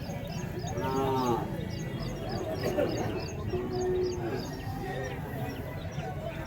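Native calves mooing at the Matrapalli cattle market, a few drawn-out lows rising over a busy, noisy crowd with people talking throughout and birds chirping faintly.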